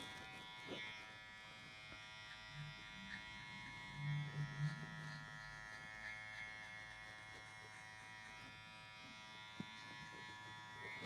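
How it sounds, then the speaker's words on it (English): Electric hair clippers buzzing steadily during a high taper haircut, a faint continuous hum with light contact scrapes against hair, no talking. "I used to love these clippers, but now with this blade, I love them."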